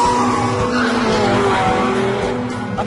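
A Porsche 918 Spyder with four-wheel drive and four-wheel steering driven hard, its engine droning loudly and close while the tyres squeal steadily throughout.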